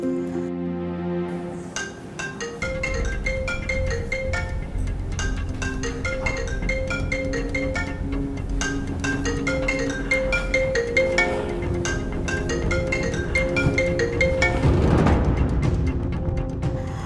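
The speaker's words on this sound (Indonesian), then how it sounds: "Aku coba telepon Mas Aldi." A phone rings at midnight during a call, playing a melodic ringtone that repeats a bright, chiming tune for many seconds, loud and clear.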